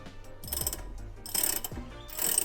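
A hand ratchet clicks in short rapid runs while loosening the bolts on a car's brake caliper bracket, three close, loud bursts of ratcheting separated by brief pauses, with no talking.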